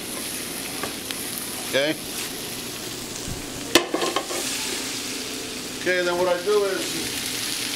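Smoked pork chops from a Vermont butcher browning in a pan with red cabbage, sizzling steadily with a few stirring clatters, under a man's short remarks.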